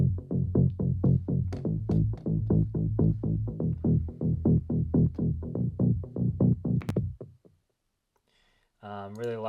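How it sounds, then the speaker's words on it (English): A low-mid sine wave bass synth made in Serum plays a quick run of short, evenly spaced plucked notes with short envelopes, then stops, followed by a brief different tone. "The low one is just a simple sine wave I've made"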